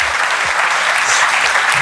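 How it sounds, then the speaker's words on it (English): An auditorium audience on stage-talk night claps steadily for a woman invited up, a dense even wash of applause throughout with no voices over it. "Big round of applause,"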